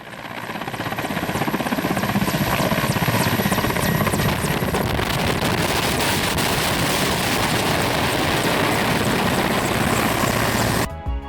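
A helicopter drones loudly and steadily overhead, its rotor chop a constant broadband roar throughout, cutting off abruptly at the end.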